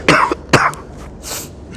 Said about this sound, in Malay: ada teman yang batuk